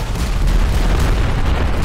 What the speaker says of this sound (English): Let me try to bomb him again.